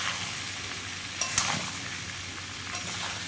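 Raw green mango pieces for a mango pickle fry in a pan, giving a steady, even sizzle broken by a few sharp scrapes and clinks of stirring.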